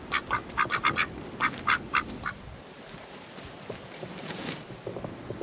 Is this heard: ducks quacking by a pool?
yes